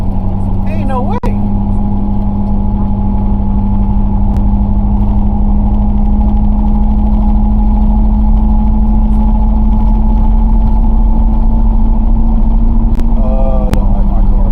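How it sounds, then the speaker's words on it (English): A car engine idles steadily while the car shakes, a loud, continuous low hum and drone running throughout, close up, with a voice talking over it. "Don't like my car shaking like that,"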